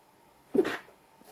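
A single short sneeze from an adult indoors, a sudden burst that trails off within a quarter second against a quiet background.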